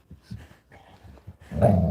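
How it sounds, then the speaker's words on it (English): Older dogs growl and grumble at each other in short, low bursts, ending in a louder rising snarl, close by and without talk. "If you hear the older dogs growl at each other"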